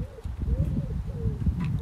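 A pigeon cooing close by in soft, low, rolling calls, repeated a few times over a rumbling background.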